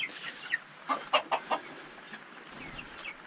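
Turkeys kept in a greenhouse gobble and cluck in a short cluster of calls mid-range, over a low murmur of other birds.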